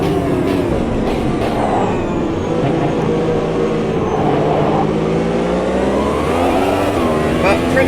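Several race cars circling Monza in Automobilista 2 (AMS2), engine drones layered with overlapping harmonic whines that sweep up and down as cars pass, continuous and fairly loud, with a commentator talking over them.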